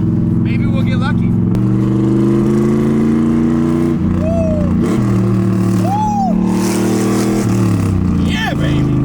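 A cherry red car with an LT1 engine revs and accelerates hard nearby, its loud, deep roar climbing and dropping through several gear changes, with a few short voices breaking in.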